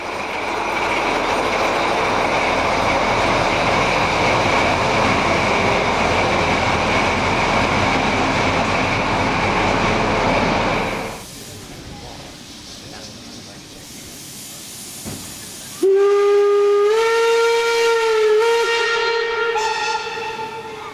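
A loco-hauled passenger train at Mannheim station rumbles past loudly with steady wheel noise, fades to a quieter hiss, then ends in a long wheel squeal.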